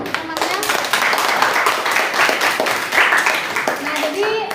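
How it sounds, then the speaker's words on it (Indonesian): A group of classmates in a physics classroom breaks into loud, close clapping that lasts nearly the whole stretch, with children's voices faintly under the claps. "Kita berikan tepuk tangan dulu teman-teman."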